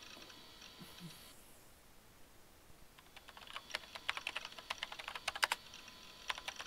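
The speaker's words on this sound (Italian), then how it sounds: "quello di qualcuno che stava battendo tasti sulla tastiera" Keys tapped on a computer keyboard as a visual novel sound effect, starting after a quiet pause as a rapid, irregular run of light clicks, fairly close and soft, growing denser toward the end.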